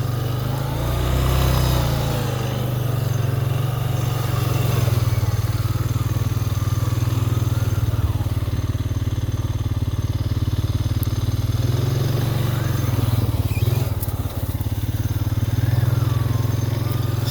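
An off-road vehicle in four-wheel drive pushes through deep snow in the woods, its engine a loud, close, continuous drone that swells briefly in revs early on and again near the end.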